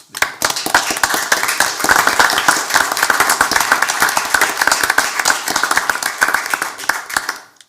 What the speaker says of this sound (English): I'd like to give both of you a round of applause